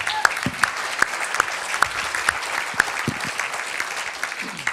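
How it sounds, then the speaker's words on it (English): An audience welcomes a guest speaker at a Peace One Day Q&A with applause: many hands clapping steadily, with a few loud, distinct nearby claps punctuating the wash of sound. "So big round of applause for Jeremy"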